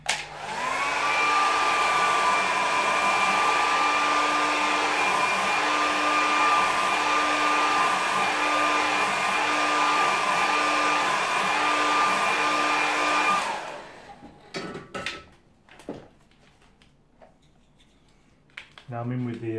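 A hair dryer blows on a watercolour painting clipped flat with bulldog clips, a loud steady whine for about thirteen seconds before it cuts off, followed by faint handling noises.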